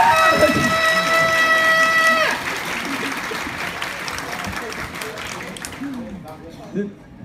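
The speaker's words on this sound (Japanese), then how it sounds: "女性の方の拍手" Women in a comedy club audience clap together in a dense, steady burst that fades toward the end, with a sustained electronic tone at the start and stray voices murmuring underneath.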